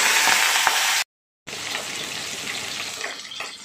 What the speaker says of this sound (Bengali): এবার একটা রুই মাছ নিয়েছিলাম, সেই রুই মাছগুলো ভাজা করে নিচ্ছি।